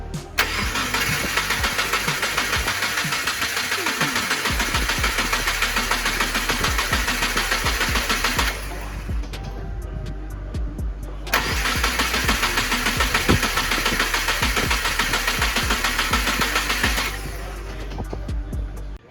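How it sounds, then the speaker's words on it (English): Subaru WRX with an FA20DIT engine being cranked over by the starter without firing, two long steady cranking bursts of about eight and six seconds separated by a short pause, loud and close. "we can crank the engine over a few times before it starts and prime the engine with some oil."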